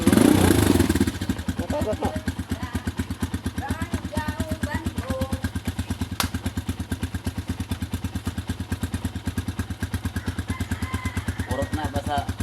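A Rusi 150 motorcycle with a faulty ignition switch starts with a brief burst of cranking, then settles into a steady, rapid single-cylinder idle that runs on evenly, while people talk nearby.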